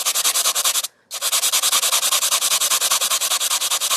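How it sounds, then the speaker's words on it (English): Sandpaper scrapes a pumice earring in fast, steady back-and-forth strokes, loud and close, pausing only once briefly before the rhythmic rasping resumes. "So I can use the sandpaper and be patient, because this is the only way to remove the"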